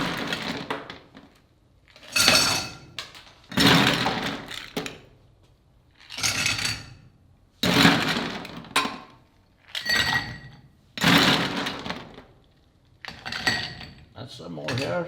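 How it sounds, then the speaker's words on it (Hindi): Ice cubes clatter into two bar stirring glasses in bursts, about eight loud clinking pours with short pauses between them, heard up close behind a cocktail bar. "उसके लिए मैं दोनों ग्लासेस में स्टरिंग ग्लासेस में आइस डालूँगा"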